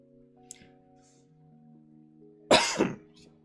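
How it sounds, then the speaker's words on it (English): A person coughs, loud and close, in two quick harsh bursts near the end, after a steady electronic musical drone plays through the opening seconds. "And an awful lot of coughs,"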